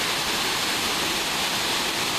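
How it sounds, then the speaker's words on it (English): Water pours over a dam into a waterfall at an old amusement park, a dense, constant rushing roar with no break or variation. "from this angle you get an excellent view of the dam that creates the waterfall here"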